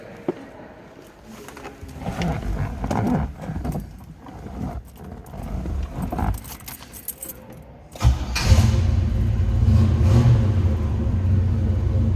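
Keys jangle and rattle for several seconds, then a 1979 Pontiac Trans Am engine cranks, fires up and keeps running at a steady rumbling idle.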